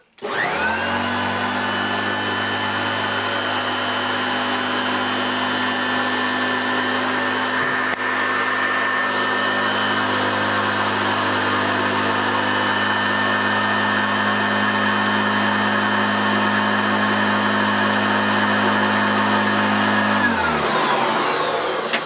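Hoover Turbopower Junior U1220 upright vacuum cleaners run on a floor with a loud, steady motor drone and whine, close and continuous, before switching off at the end.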